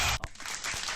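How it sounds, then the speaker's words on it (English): A short burst of recorded applause from a clap button on a live stream, a dense wash of clapping that starts loud, dips briefly and swells again, with a couple of sharp knocks. "Hit the clap button, Jess"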